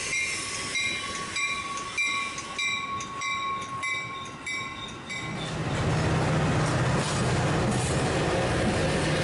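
A Metra inbound commuter train passes at night in LaGrange, opening with repeated horn blasts, then swelling into a loud, close rumble of wheels and cars rolling by.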